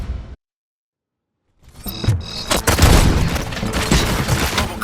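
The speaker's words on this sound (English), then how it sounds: "Gunshots? What's going on?" Gunfire in RoboCop: Rogue City erupts after a brief silence, a dense, booming barrage of shots and impacts that stays loud and continuous to the end.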